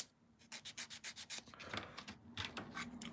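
Short repeated scraping strokes as excess glue is scraped off a plastic Airfix Concorde model kit, a rhythmic series of close, quiet rasps that run together into steadier rubbing toward the end.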